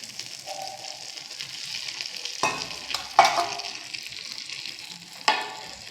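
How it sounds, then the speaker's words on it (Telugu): Tempering for coconut chutney sizzles in hot oil in a small pan, a soft steady crackle broken by sharp bursts of spattering and stirring clatter, close by and with no talk. "నెక్స్ట్ కొంచెం పోపు పెట్టుకుంటున్నానండి"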